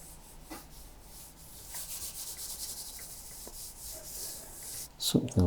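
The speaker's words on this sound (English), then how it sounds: "we'll just rub that in," Charcoal rubbed and blended into paper for a drawing of a coastal landscape, a soft continuous scratchy rubbing close by and quiet, ending in a brief louder knock.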